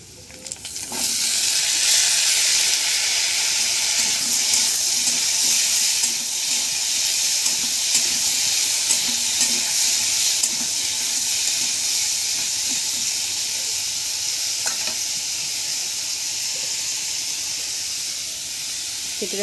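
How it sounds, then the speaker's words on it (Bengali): Cut pumpkin pieces frying in a pan for a fish-head pumpkin ghonto, with a loud, steady sizzle and hiss throughout and occasional soft scrapes of stirring, no voices. "এবার কেটে রাখা কুমড়োগুলো দিয়ে দেব।"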